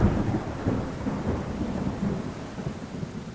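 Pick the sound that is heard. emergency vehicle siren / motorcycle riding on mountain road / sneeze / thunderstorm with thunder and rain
thunderstorm with thunder and rain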